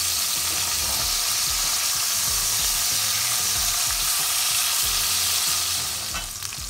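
Mahi mahi fillets fry steadily in a hot pan, a loud continuous sizzle with crackle running the whole time and easing off slightly near the end, no voices.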